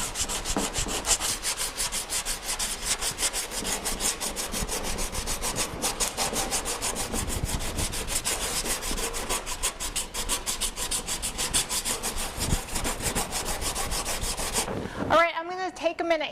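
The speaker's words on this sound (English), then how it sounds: "we're basically going to sand all of this area off because the Rage Gold will not stick to the paint very well" Sandpaper of 80 grit scrubbing the painted body panel of a Jeep Wrangler Rubicon, a steady loud rasping rub that continues without pause for a long stretch before stopping abruptly near the end.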